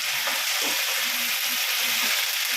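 Curry leaves sauté in a hot pan for curry leaf pickle, a steady, close hiss and crackle of frying that runs unbroken, with faint stirring scrapes underneath.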